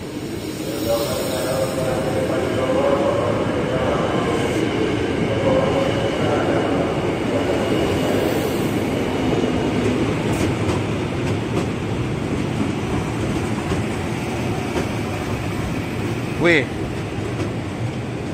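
A commuter train rumbles into Manggarai station, Jakarta, continuously, loud and close, with rolling wheel noise, a brief metallic squeal near the end, and a voice talking over it.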